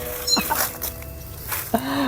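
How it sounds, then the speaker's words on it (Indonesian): A cat meows a couple of times, short and fairly close, over a noisy background with a faint steady hum and people moving about. "Ada suara kucing Wak Ji"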